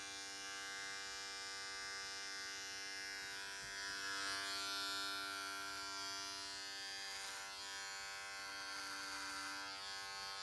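An electric beard trimmer with its lever closed for a close cut drones steadily, a loud, even, tonal buzz that shifts slightly as it passes through beard hair, heard close up with no talking.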